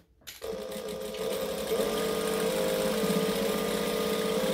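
A sewing machine stitches a tote bag seam: after a brief start, it settles into a steady, fast, whirring hum that continues evenly at close range, with no talking.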